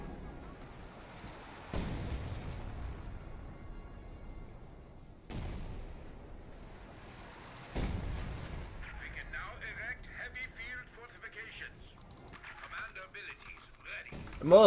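Artillery barrages in Company of Heroes 2, a World War II strategy game, land as several loud booming impacts spaced a few seconds apart, each followed by a rumbling decay, with faint game voices in between.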